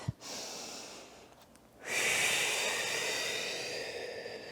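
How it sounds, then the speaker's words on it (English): A short sniff, then a long, loud, breathy exhale at close range during a mat Pilates forward fold. The airy rush holds steady for several seconds after a brief pause. "Big deep breath."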